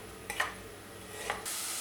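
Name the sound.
onions sautéing in a pot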